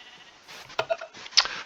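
Sheep bleat two or three times at close range, each call short and wavering. The calls come from a fenced farm pen and sit over a quiet background with no talk.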